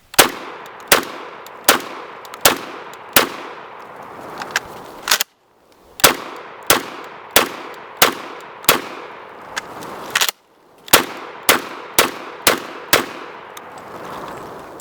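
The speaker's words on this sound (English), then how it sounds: "Guys, that was buckshot." IWI Tavor TS12 bullpup shotgun firing buckshot outdoors: sharp, loud blasts in quick rhythmic strings of several shots, separated by two brief silent pauses, each report ringing out with a short echo.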